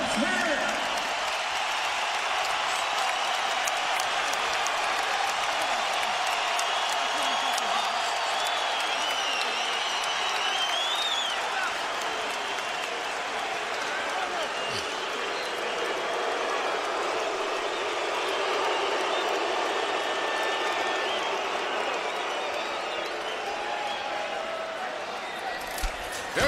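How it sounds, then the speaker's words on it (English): A boxing arena crowd roars at the final bell of a world-title rematch, a steady, dense wash of cheering and applause that holds throughout, with a commentator's voice running over it. "And the crowd is on its feet again."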